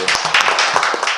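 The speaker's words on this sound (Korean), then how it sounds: "큰 박수로 모시겠습니다" Audience applause welcoming a speaker at a Korean constitutional-reform forum, a dense, steady burst of many hands clapping close by, brief and continuous throughout.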